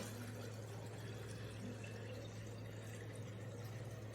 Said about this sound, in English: And now pour that water in.